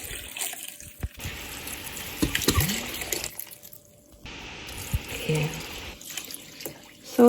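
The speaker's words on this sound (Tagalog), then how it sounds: "So, lagyan natin ng tubig." Water runs from a kitchen tap into a saucepan holding orange and lemon peels and juice, a steady close hiss that stops and restarts midway, with brief metallic clunks and a short spoken word.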